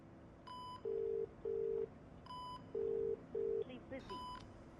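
A phone call rings out with repeated paired beeps and tones, then is cut off as the call is rejected; the tones are clear and steady, with faint voices underneath.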